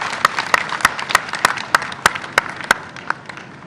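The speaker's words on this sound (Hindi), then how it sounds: "चलिए इस बात पे एक बार जोरदार तालियां हो जाए।" At a gathering of the cobbler community in Budhni, an audience delivers rhythmic unison clapping, a dozen sharp, evenly spaced claps that are close and clear before fading slightly at the end.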